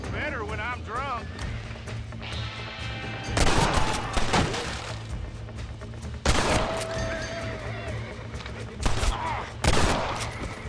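Gunshots crack in Red Dead Redemption, several sharp loud reports spaced a few seconds apart over a background of a horse whinnying and hooves, with a voice speaking between the shots.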